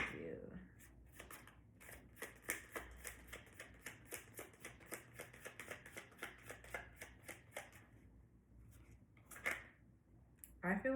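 Playing cards for an oracle reading are shuffled in a quick, even run of crisp riffling snaps, close and quiet, with a voice briefly heard at the start and near the end.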